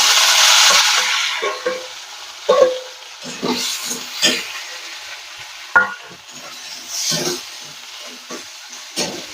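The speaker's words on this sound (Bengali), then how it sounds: "আলুটা একটু হালকা হালকা ভেজে নেবো।" Potato pieces fry lightly in hot mustard oil, a steady close sizzle with several stirring scrapes and knocks of a utensil against the pan, and no talk.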